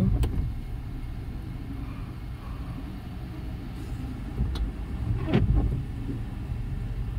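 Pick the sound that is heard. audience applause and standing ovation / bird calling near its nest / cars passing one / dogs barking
cars passing one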